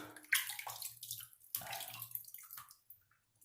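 Water splashes close by as hands scoop it over a face before a shave with an Edwin Jagger DE89 safety razor, two bursts of wet splashing and dripping over a faint tap hum.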